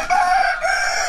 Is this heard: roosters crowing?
yes